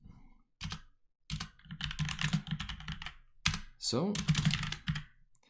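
Rapid clicks of typing on a computer keyboard during a React coding challenge come in bursts separated by short pauses, close and crisp, with someone speaking briefly over it.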